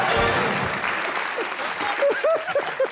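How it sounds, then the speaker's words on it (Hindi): Studio audience applause on a Hindi TV comedy show, a dense wash of clapping that holds steady throughout, with a few voices and whoops rising over it toward the end. "जोरदार तालियां नवजोत सिंह सिट्टू के लिए।"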